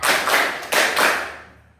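A class claps together in counted bursts during a lesson, a few sharp, loud group claps in quick succession, the last one ringing out and fading into quiet.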